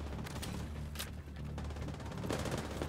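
Video game gunshots: a steady crackle of rapid shots with a few sharper cracks standing out over a constant low background rumble, at moderate loudness.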